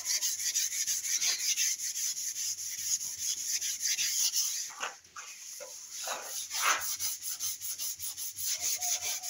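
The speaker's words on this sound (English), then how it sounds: "I'm using a 400 grit. Try and sand out these, and then I'm going to go over the whole hood and scuff it up." A car hood being hand sanded with 400 grit sandpaper, a steady close scratchy rubbing in quick back-and-forth strokes that pauses briefly midway and then resumes at the same rhythm, with no one talking.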